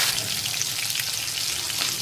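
Bata fish frying in oil in a kadai, a dense, even, close sizzle holding steady throughout with no voices.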